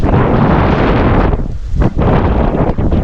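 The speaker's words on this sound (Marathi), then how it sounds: "लय वारच भयानक वारं सुटले वादळ आहे" Strong storm wind buffets loudly and roughly, with heavy gusts roaring through, briefly easing before surging again.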